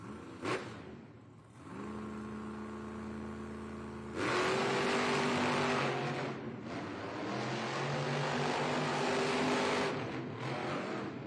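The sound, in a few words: monster trucks racing head-to-head in an arena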